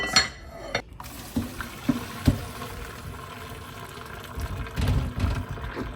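Boiled potatoes drained in a kitchen, water pouring out of the pot in uneven splashes with a few metallic knocks of the pan, close and fairly quiet.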